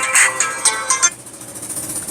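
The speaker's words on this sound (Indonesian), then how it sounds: "istriku telepon, bentar ya." A phone ringtone from an incoming call plays as a short repeating electronic melody, fairly loud and close, then fades to a quieter sustained tone without speech.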